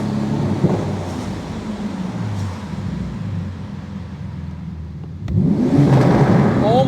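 A Porsche GT2 RS engine on a drive in the rain, a steady loud mid-range drone that swells into a sharp rising rev near the end, close and with no talking.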